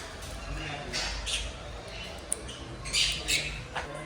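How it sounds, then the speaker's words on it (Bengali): A cockatoo at a bird and animal park in South India gives several loud, harsh squawks in quick bursts, close by, with people talking and crowd noise in the background. "এখানে আছে কাকাতুয়া"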